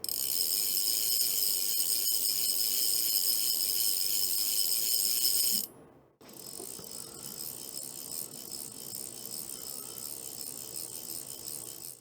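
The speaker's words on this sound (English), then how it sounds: "It's a fantastic sounding reel and has a differentiated incoming and outgoing drag sound." A Galvan Torque 5-weight fly reel's drag clicks as a fast, close, continuous ratcheting buzz, with a brief pause midway before the clicking resumes in the other direction.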